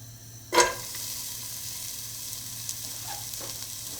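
Onions dropped into a hot pan for a simple vegetable curry give a sudden loud sizzle on impact, then a steady close frying hiss that carries on alone with no talk.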